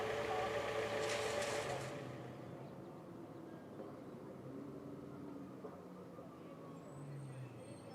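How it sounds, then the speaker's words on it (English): GT racing cars head back to their garages after qualifying at the Zhuhai circuit, engines rumbling loudly at first and then settling into a lower idle drone, with commentary running over them. "Cars now return to their garage."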